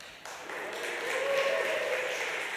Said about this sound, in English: But can I get a cheer if you're paying attention now?